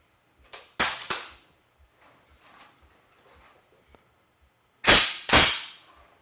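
The action of a C9 machine gun is worked and dry-fired during weapon handling drill: sharp metallic clacks and snaps in pairs, near and loud, with fainter mechanical clicks between and no talking.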